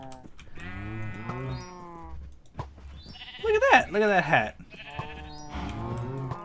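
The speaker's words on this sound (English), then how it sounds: "Now we got a couple of sheep in our pin." Sheep bleating in the Minecraft video game, several wavering calls close by, mixed with someone talking over them.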